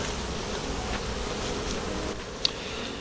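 Honeybees hum steadily around a three-story beehive as it is moved, a dense continuous buzz with one brief sharp click near the end.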